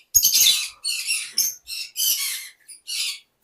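Running conure breeding pairs screeching in a series of sharp, shrill bursts, loud and close, with short pauses between calls and no talking.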